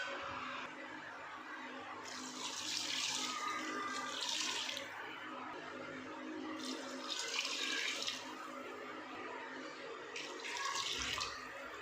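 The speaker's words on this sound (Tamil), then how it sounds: "இப்போ நம்ம தேவையான அளவு தண்ணி சேர்த்துக்கலாம்." Water poured into a pot of vegetable biryani in a home kitchen, a faint steady splashing rush that swells in three separate bursts over a low background hum.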